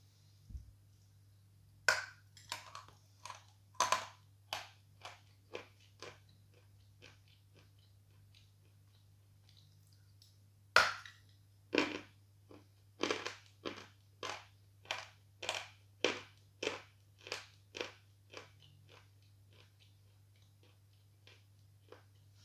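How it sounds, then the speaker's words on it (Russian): Dried edible chalk being bitten and crunched, a close series of sharp dry cracks in a steady rhythm, sparse at first then quickening into a regular run of crisp crunches over a low constant hum, with no talk. "Откусывается он очень легко"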